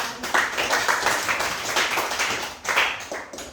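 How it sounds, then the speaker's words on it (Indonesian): Classroom applause as students clap for a presentation on tobacco, a dense burst of hand claps with rising and falling swells, fairly close and steady throughout. "Ya, tepuk tangan untuk"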